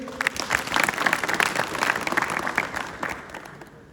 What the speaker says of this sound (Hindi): तो एक बार कांग साहब की विशेष ताली होनी चाहिए।